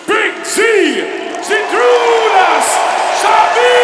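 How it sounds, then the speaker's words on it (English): A crowd at the 2017 World Deadlift Championships cheers, whooping and yelling in loud overlapping voices with a steady roar of noise beneath, all close and continuous. "Give a round of applause to Big Z"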